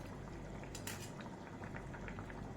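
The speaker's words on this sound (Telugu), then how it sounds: "చక్కగా ఉడుకుతుంది కర్రీ" Okra and fish curry simmering in a pot, a steady close bubbling boil with soft liquid gurgles throughout and a few faint clinks, no voices.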